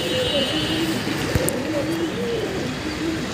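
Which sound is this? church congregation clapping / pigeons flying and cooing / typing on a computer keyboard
pigeons flying and cooing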